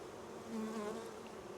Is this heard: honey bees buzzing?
yes